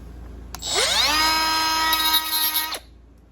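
A Milwaukee 12V Fuel cut-off saw spins up and cuts into a boron carbide alloy piece, a loud, sustained high-pitched whine lasting about two seconds before stopping abruptly.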